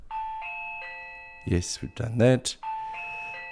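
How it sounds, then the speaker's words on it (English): A Reolink wireless doorbell chime plugged into a wall socket sounds a sustained electronic bell tone, cut off briefly while someone speaks, then rings again clearly after he finishes. "Press the doorbell button."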